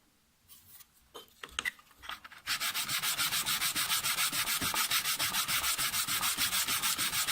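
A file is drawn across the edge of a steel cabinet scraper during sharpening: a few scattered scrapes, then a fast, even run of rasping strokes, close and fairly loud.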